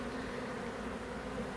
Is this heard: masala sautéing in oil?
no